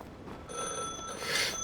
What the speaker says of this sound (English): My fucking phone is ringing again.